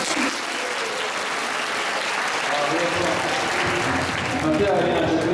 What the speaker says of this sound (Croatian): Molimo vas da nas pozdravite jednim pljeskom.